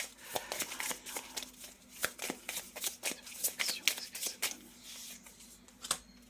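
Tarot cards shuffled by hand in a quick run of crisp riffling snaps and flutters, close and fairly quiet, with no talking.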